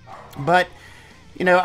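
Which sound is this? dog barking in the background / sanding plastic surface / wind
dog barking in the background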